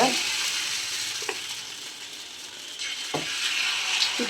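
Oil poured around a wheat dosa on a griddle set to a low flame, producing a steady bright sizzle, with a few short scraping clicks from a ladle.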